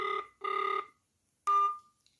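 Ringback tone on an outgoing phone call, two even electronic ring bursts followed by a shorter third one that is cut off, clean and close with no voices.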